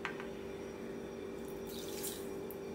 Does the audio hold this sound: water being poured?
yes